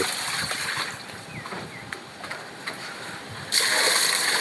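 Water is poured out of a bucket outdoors, a soft trickling splash that breaks into a louder, sustained gush near the end, with voices faintly in the background.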